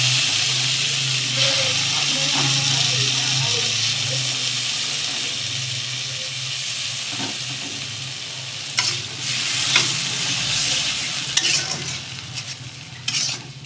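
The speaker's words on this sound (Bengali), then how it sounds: "ডালটা দিয়ে ভালো করে ভাজবো।" Boiled lentils fry with onions in a pan, a steady sizzle under stirring scrapes, with occasional louder clatters of the spoon toward the end.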